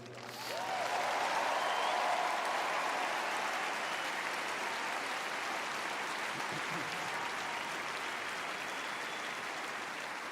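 A tennis crowd applauds steadily for about ten seconds, a dense, sustained wash of clapping that swells quickly at the start and holds at a fairly even level.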